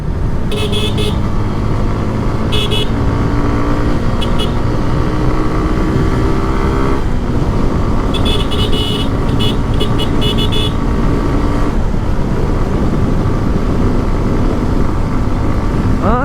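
A modified Suzuki Gixxer motorcycle set up for stunts, its engine roaring loud and steady up close throughout, with brief bursts of higher-pitched noise cutting in a few times and no talk.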